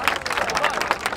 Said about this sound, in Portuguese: Muito barulho e palmas para a Érica!